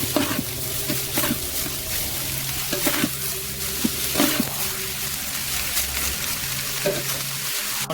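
Onions fry in oil for Thalassery biryani, a loud continuous sizzle broken by a few spoon taps and stirring scrapes, close and steady, with no talking.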